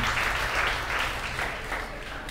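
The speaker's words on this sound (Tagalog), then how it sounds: "pumalakpak ka nga ng the best kay Jesus" A church congregation applauds during a sermon, giving a sustained round of clapping that fades slightly toward the end, heard somewhat distant in a large hall.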